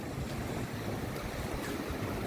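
Ocean waves at a beach surge and wash in a continuous, fairly close roar, mixed with wind buffeting and no talking.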